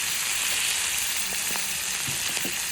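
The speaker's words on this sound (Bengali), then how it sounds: "এবার একটু পরিমাণ মতো নুন দিয়ে দেবো, তেলটার মধ্যে একটু ভাজি করে নেব।" Crabs and fenugreek fry in hot oil with salt, giving a steady, dense sizzle with a few soft crackles and pops throughout, close and continuous with no voices.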